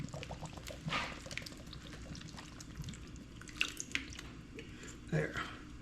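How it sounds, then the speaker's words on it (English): Tomato juice poured into a skillet, a soft intermittent liquid splash and trickle with a few brief drips, heard close and moderately quiet, with a voice speaking over it. "Goes our tomato juice."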